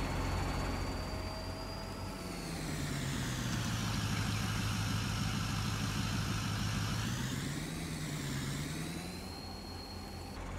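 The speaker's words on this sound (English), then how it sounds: "there goes our pickup actually heading back up to the farm right now" A farm pickup truck driving off across Nebraska farmland at the end of planting season, its engine droning steadily with a rising and falling pitch as it passes, clear and fairly loud with no talk.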